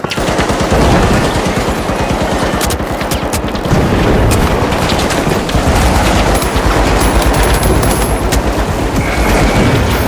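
Grenade blasts and rapid gunfire erupt in The Finals video game, loud dense bursts of automatic fire with sharp booming impacts, nearly continuous and close throughout.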